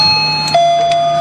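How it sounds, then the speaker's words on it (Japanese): A two-tone doorbell chime rings loudly in a quiet room, a clear ding followed by a lower sustained dong. "ピンポンうるさい。 結構うるさいよ。"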